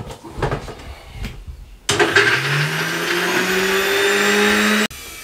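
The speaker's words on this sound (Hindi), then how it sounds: "इसको हम ग्राइंड करने लगे हैं" A juicer mixer grinder blends garlic, lemon juice and vinegar, starting abruptly after quiet kitchen noises and then whirring loudly and steadily, its motor pitch rising slightly before it cuts off.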